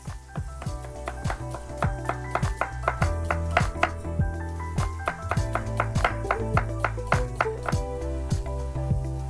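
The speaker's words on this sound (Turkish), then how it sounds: "Ətlər orada möhürlənənə qədər soğanımızı doğramağa davam edirik." Onions are chopped with a knife on a board in quick, steady, close strokes, a rapid rhythm of sharp knocks that runs without break over a faint kitchen background.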